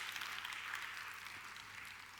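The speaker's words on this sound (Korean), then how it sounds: "박수 한번 부탁드려도 될까요?" Faint, steady audience applause fills a hall at a city culture foundation's citizens' council launch ceremony, even and distant throughout with no voices on top.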